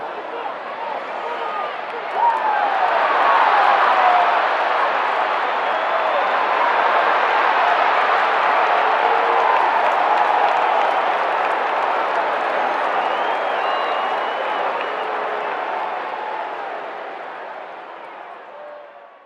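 A large crowd of football spectators roars steadily, a broad sustained wash of cheering and clapping that swells early and holds for the whole stretch before tapering at the end.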